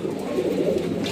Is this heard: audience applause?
no